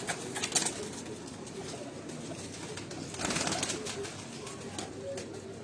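Low murmuring coos from breeder pigeons run steadily through the stretch, mixed with soft rustling and a brief louder swell midway, with no talk over them.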